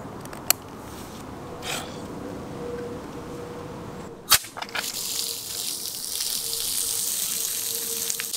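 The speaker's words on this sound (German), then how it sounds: "Ich lasse mal ein bisschen Wasser durch den Schlauch laufen" Water runs through a hose at a camper van on a Netherlands road trip, beginning with a few clicks and a sharp knock before a steady gushing rush sets in and continues, close and without talk.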